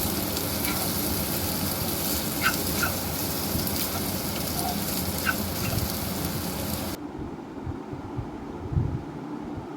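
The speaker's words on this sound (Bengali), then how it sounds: "কাশ্মীরি রেড চিলি পাউডার দিয়ে আবারও ভালোভাবে নেড়ে এটাকে কষিয়ে নেব।" Masala frying with garam masala and Kashmiri chili powder, a dense, steady sizzle with occasional stirring clicks that cuts off sharply to quieter low scraping near the end.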